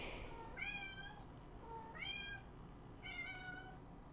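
A house cat meows three times, each call drawn out and evenly spaced, fairly faint against a low background hiss with no speech.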